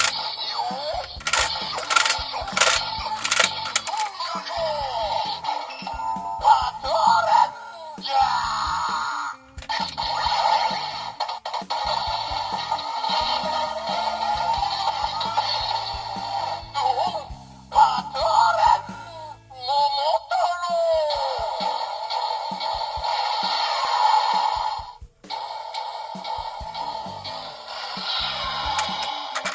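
Busy electronic toy sound effects: chiming tones, whirring and bleeps layered densely for about thirty seconds, loud and close.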